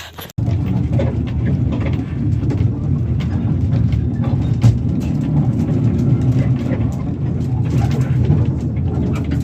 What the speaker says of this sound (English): so we're going back on the train now